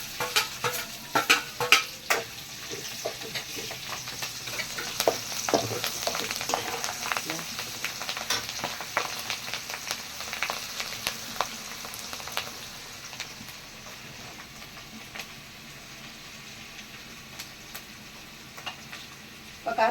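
Ginger and green chilies fry in hot oil in a pan for lemon rice, giving a continuous crackling sizzle broken by stirring scrapes, loudest at first and then settling to a quieter, steady fizz.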